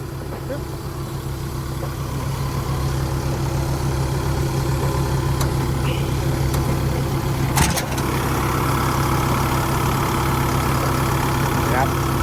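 Isuzu 4JJ1 turbo diesel engine on a Sumitomo HA60W-7 asphalt paver idling steadily and close, a continuous low mechanical drone with a brief knock near the end.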